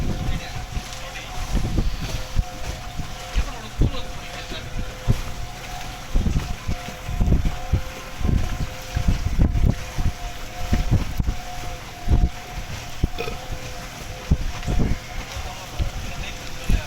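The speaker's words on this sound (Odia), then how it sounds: "ଆଗକୁ ଯାଉଛି ଡଙ୍ଗା ପୁରା।" A boat moving across a lake at a picnic spot, steady churning water and low engine rumble with wind buffeting the microphone throughout, continuous and fairly loud.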